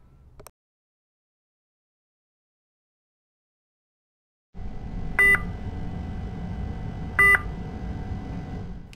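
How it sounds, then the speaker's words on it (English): A hospital telemetry monitor gives two short, bright electronic beeps about two seconds apart over a steady low hum, after a brief click and a silent gap. "the coach asked as he awoke from the beeping noise of the telemetry monitor"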